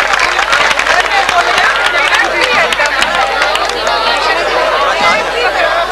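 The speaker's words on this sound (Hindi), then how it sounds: "जोरदार तालियां चौधरी सलीम साहब" Loud, continuous crowd noise at a confirmation gathering for Ch. Saleem A. Yousaf, steady clapping blended with heavy chatter and murmuring voices close by.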